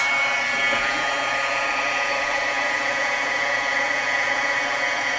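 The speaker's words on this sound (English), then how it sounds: "I like to hold my heat gun out and just let it get heated up good before I start" Heat gun blowing hot air while warming up for embossing on vellum, a steady, loud broadband whoosh that holds constant from start to finish with no other sounds.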